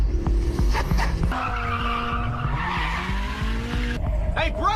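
Street racing scene from the Initial D film: continuous tire squeal and skidding over a revving car engine, loud and close, with a voice talking over it and a sharp change near the end.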